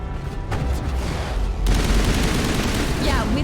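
A Citadel defense turret in Mass Effect fires a loud, sustained volley of rapid shots and booms, dense and continuous from start to finish.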